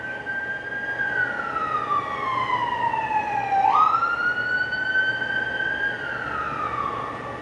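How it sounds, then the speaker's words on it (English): A siren wails past outside, its pitch sweeping down then back up as it passes, steady and fairly loud over a continuous traffic hum, with no talking. "there'll be a siren and I'm so used to sirens that I just don't even think about them."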